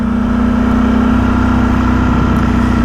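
A Ducati Streetfighter V4S motorcycle on its stock exhaust idles with a steady, close, loud engine note and an even mechanical hum, holding level with no revving.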